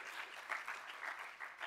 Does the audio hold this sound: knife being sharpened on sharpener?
no